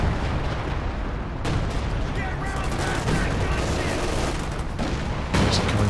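Rocket artillery in Company of Heroes 2 pounds a battlefield with a dense, continuous roar of explosions and rumbling fire. Loud blasts overlap with no pause, and voices can be heard under the din.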